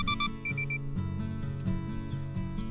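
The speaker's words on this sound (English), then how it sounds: "Kakuzu stopped mid-sentence and emitted an odd beeping noise." Cartoonish electronic beeping from the character Kakuzu, a few quick high tones in a short burst early on, sitting over steady background music.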